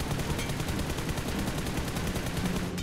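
Dense, continuous video-game gunfire rattles steadily throughout as rapid automatic shots in a busy firefight, fairly loud and without speech over it.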